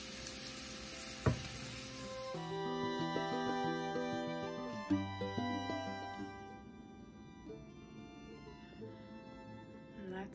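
Bourbon glaze sizzling as it is added to a hot pan, a soft frying hiss with stirring sounds under background music and occasional clinks.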